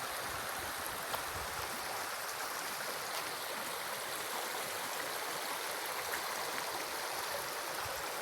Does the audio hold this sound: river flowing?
yes